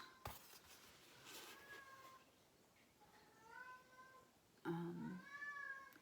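A cat meows faintly in the background several times, thin drawn-out wavering cries at low volume, with a louder, rougher yowl near the end, and someone talks quietly at times.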